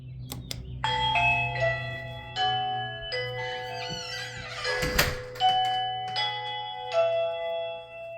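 A Reolink doorbell chimes repeatedly, bright ringing tones sounding in sequence over a low steady hum, with a brief rustling noise midway.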